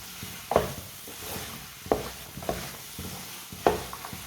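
A spoon stirs peas and eggs cooking in a pan, with four distinct scraping strokes over a low, soft sizzle and no voices.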